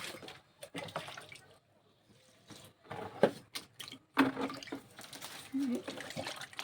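Organic slurry poured from a container onto cucumber plants, giving faint, intermittent splashes and trickles, quiet and close, between brief stretches of low talk.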